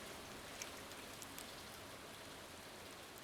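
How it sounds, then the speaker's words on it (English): Steady rain from the farming game Stardew Valley, a soft even hiss of falling drops with occasional faint patters, continuous and without talk. "so it's raining, so I don't have to water anything"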